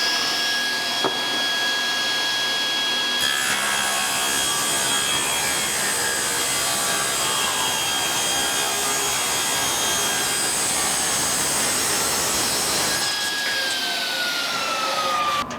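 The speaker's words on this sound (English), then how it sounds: "we need to first run it through the joiner to clean up one edge" A board fed through a jointer to clean up one edge. The machine whines loudly and continuously while the cutterhead rasps steadily against the wood, close up and with no one talking.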